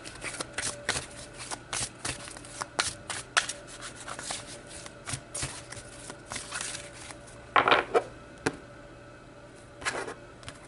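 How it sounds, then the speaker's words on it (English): Tarot cards are shuffled in quick, crisp riffling bursts, close and fairly quiet, with short pauses between the flurries and no speech. "So let's pull one more card."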